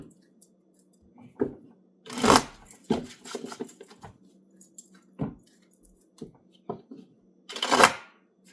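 Tarot cards are shuffled close by in short, irregular bursts of riffling and snapping, with two louder shuffles standing out against near silence.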